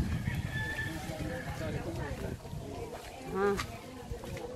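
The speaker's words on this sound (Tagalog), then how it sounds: "Ang dami mo pala iting manok, Andy" Native chickens cluck in the background beneath people talking on a countryside pig farm, with a brief louder call near the end.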